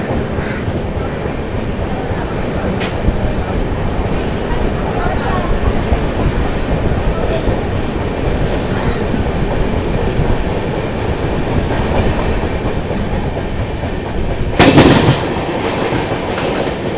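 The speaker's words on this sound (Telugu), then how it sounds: "11:38 చూడండి, చాలా ఫాస్ట్ మన విశాఖ" The Visakha Express runs fast between Bhubaneswar and Brahmapur with a constant loud rumble and rapid wheel clatter heard from inside the train, and a brief sharper squeal or clank near the end.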